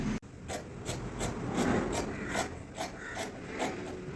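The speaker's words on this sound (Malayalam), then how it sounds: "അത് ആ മാർക്ക് ചെയ്തെടുത്തുകൂടി ഒന്ന് കട്ട് ചെയ്തെടുക്കുകയാണ്." Scissors cutting fabric along marked lines for a short kurti, a steady rhythm of close, soft rasping snips repeating about every half second, with no talking.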